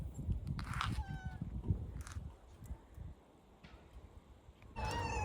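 Several cats meow while waiting to be fed outdoors, a few short, fairly close cries scattered over a steady low background rumble, with one last louder meow at the end.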